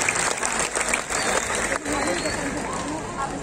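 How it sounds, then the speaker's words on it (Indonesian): Crowd at a public park inauguration in Buleleng, Bali, clapping for the regency, a broad wash of applause with voices mixed in, steady and fairly loud across the clip. "Tepuk tangan untuk kabupaten."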